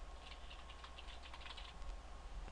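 Rapid, light clatter of keys on a computer keyboard as a command is typed, a steady run of quiet close clicks over faint background hiss.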